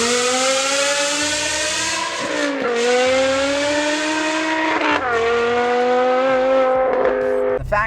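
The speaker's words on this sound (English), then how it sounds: "BMW M5, the one with the F1 derived V10 engine." Loud, continuous V10 engine note from a BMW M5 with an F1-derived V10, revving up in clear harmonic sweeps with brief dips between pulls, heard alone with no talking.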